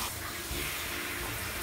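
A bathroom tap running steadily as it is turned toward cold water, a continuous close rush of flowing water with no talk over it.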